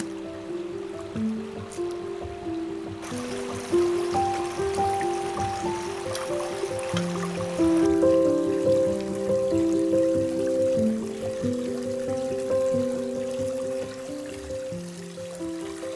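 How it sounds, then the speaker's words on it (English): A small stream flows steadily outdoors in nature, a close, continuous babbling of water with no voices. "So I have a small little river, or what do you call it? Flow."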